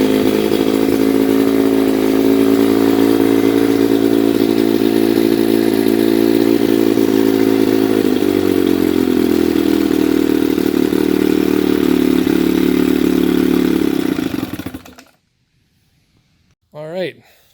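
A small 10-horsepower Johnson outboard motor, revived after sinking, runs loud and close with a steady buzzing drone, shifts pitch midway, then cuts out abruptly; a brief voice follows.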